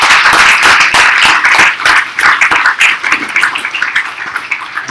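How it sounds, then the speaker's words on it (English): Audience at a poetry reading evening applauds the event's organizers, a loud, steady stretch of crowd clapping that thins slightly toward the end. "can we just give a round of applause for everyone who helped put this together"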